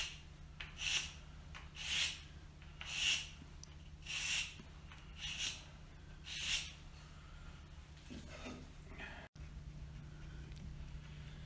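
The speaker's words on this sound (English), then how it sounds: "I'm twisting this as I run my sandpaper across it." Sandpaper rubs back and forth over a part of a handmade mirror, about seven soft rasping strokes at a steady rhythm, close and quiet, then fading to faint room hum.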